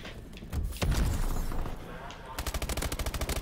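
A fully automatic shotgun in a multiplayer shooter fires a rapid, evenly spaced burst of heavy blasts at close range, preceded by a few scattered louder shots and a voice talking.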